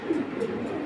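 Giribaz pigeons cooing softly in a brief, continuous low murmur with background hiss, no talking.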